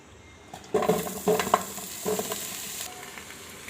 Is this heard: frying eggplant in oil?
yes